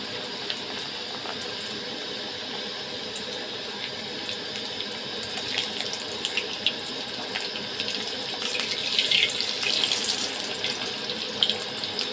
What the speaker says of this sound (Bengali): রোল করার পরে আমি রোলগুলোকে ভেজে নিচ্ছি ভালো করে।